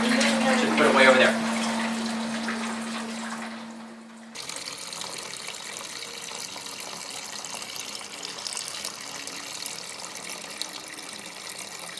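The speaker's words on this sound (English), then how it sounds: "So I'm going to dump some of that out and mix in some cold water." Water running from a tap and being poured while rehydrating brewing yeast for a Kolsch, a loud close gush at first, then a fainter steady trickle and splashing after a sudden change.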